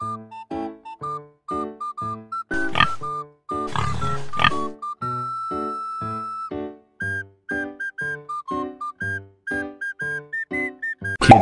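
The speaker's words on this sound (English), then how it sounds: "Pig is a farm animal." A farm pig lets out a few short, rough oinking grunts early on, mixed into a light, plinking children's tune that carries on steadily to the end.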